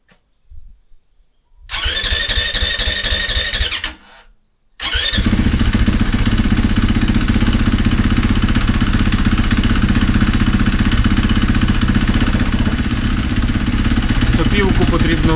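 A Kove MX 450i motorcycle engine cranks briefly on its first start, cuts out, then fires up and settles into a steady, loud, close idle that runs on to the end.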